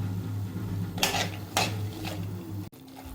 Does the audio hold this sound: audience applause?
no